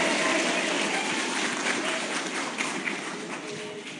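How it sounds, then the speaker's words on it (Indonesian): An audience at an Indonesian patriotic organization gathering bursts into sustained applause, dense clapping from a crowd that gradually eases off over four seconds. "Tepuk tangan."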